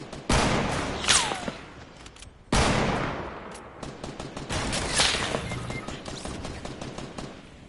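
Rapid bursts of automatic gunfire in the video game Fortnite crackle in two main volleys, followed by scattered shots fading off.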